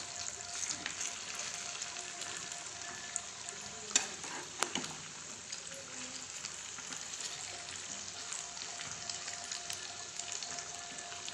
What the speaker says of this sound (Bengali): আর কম আঁচে আমি এটাকে ভাজবো, কারণ কম আঁচে দিলে ভালো হয়, ভাজাটা পুড়েও যাবে না।